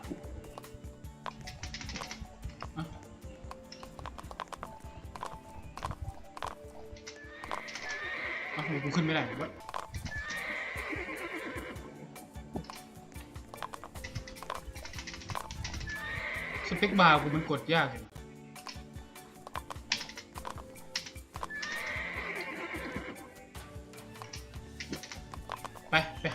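Horses in a video game's ice level neigh and whinny in several loud bursts, with clip-clopping hooves and keyboard tapping, while someone talks over them throughout.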